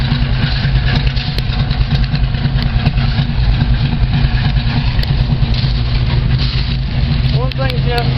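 An engine, just cold-started with a newly installed battery, idles loudly and steadily while warming up, a close, continuous low rumble with no change in pace.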